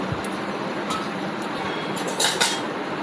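Light metallic clinks and taps of kitchenware being shifted around, a few sharper clanks near the end over a steady background hiss.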